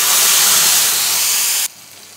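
Ground spice paste dropped into hot oil already tempered with cardamom, cinnamon and cumin sizzles loudly and close in a steady hiss, then cuts off abruptly to a quieter sizzle.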